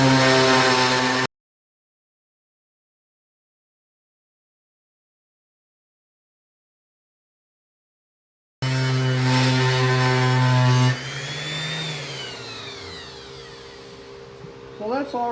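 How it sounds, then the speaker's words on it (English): A woodturning lathe hums loudly as 220 grit sandpaper is pressed against the bottom of a wooden segmented bowl, a steady motor drone broken by a long silent gap, then the motor winding down at the end. "let's just try and sand it for now"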